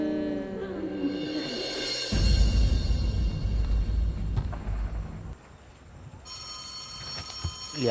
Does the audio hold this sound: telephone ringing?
yes